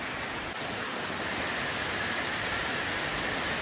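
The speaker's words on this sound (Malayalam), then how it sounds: "അപ്പോൾ സുഹൃത്തുക്കളെ, നല്ല മഴയാണ്." Heavy evening rain falls at a football ground, a continuous loud broadband hiss of downpour with no gaps or voices.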